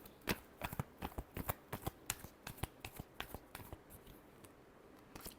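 Tarot cards being shuffled for a Virgo love reading, a quick run of sharp, crisp riffling snaps, close and moderately loud, easing off toward the end with no voices.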